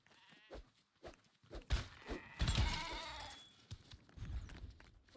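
Sheep in LEGO Fortnite let out several bleats, one drawn-out and prominent in the middle, mixed with in-game thumps and hits at moderate volume.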